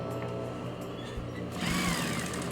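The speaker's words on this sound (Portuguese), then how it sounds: "E vou passar uma costura em volta de todo ele. Uma costura de segurança, que a gente costuma dizer." A sewing machine runs a continuous safety seam around the edge of a handmade bag, a steady, close motor whir that grows slightly louder and busier partway through, with no talking.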